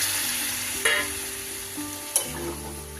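Water is poured into a pan of dried fish curry frying with green chillies, setting off a loud, hissing sizzle with two sharp bursts as it hits the hot oil, then a settling, steady crackle.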